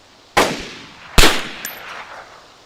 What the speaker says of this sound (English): Alright, I'm about to shoot.